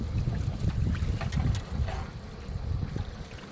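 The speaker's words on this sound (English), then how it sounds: "It's really windy." Strong wind buffets and rumbles across the microphone in gusts, loud and continuous, with faint sounds of movement underneath.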